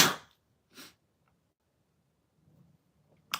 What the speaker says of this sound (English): First time I've ever sneezed on a live stream